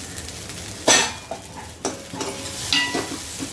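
Sago pearls are stirred into potatoes frying in a pan for sabudana khichdi. A spoon scrapes and knocks against the pan in several separate strokes over a soft, steady sizzle, with no speech.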